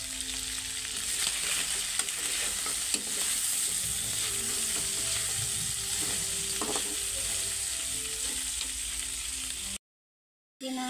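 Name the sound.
chicken adobo sizzling and crackling while frying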